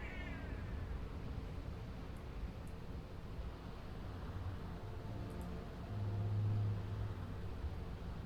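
A cat meows over a steady low background hum, with a short, clear call that stands out for a moment near the end.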